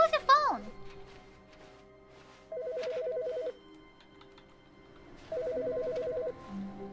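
A telephone in The Stanley Parable video game rings in two long electronic trill bursts, with talking heard before and between the rings.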